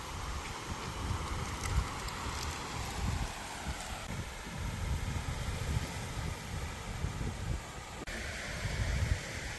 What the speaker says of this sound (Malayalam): കാറ്റുണ്ട്